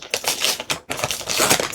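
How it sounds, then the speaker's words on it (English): A plastic bag crinkles and rustles as it is pulled open, bursts of close, crisp crackling broken by a short pause. "I'm sorry for all the crinkling noises and all that."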